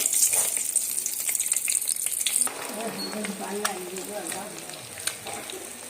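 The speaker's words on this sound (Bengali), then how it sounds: "সমস্ত ডিমগুলো উগুর করে এইভাবে তেলের মধ্যে ছেড়ে দেবো" Eggs are slipped into hot oil in a pan for a Bengali egg curry, giving a loud hissing sizzle that settles into steady frying crackle, with a voice speaking over it.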